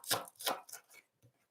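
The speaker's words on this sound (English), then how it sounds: "Nice and finely chop. I like to use all of the spring onions" A knife finely chops spring onions on a board, about five quick close cuts that fade toward the end, with no voices over them.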